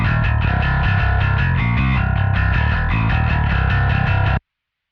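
A gritty, heavily distorted metal bass guitar plays a chugging riff alone, loud and dense, stopping abruptly near the end.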